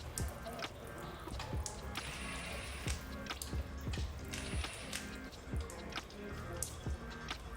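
Transmission fluid drains from a Cadillac CTS-4, dripping and trickling steadily in a close, wet stream, with scattered small splashes and clanks over a constant low background rumble.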